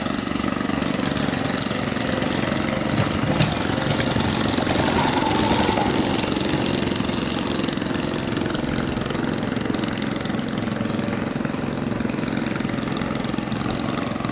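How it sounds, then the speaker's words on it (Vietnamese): Motorboat engines run steadily on a river toward the sea at Ngọc Hiển, Cà Mau, a continuous loud droning rumble filling the whole stretch with no voices. "Buổi chiều là giờ cao điểm của mọi người chạy ra biển để đi đăng nha cả nhà, cho nên là ghe máy chạy hơi nhiều"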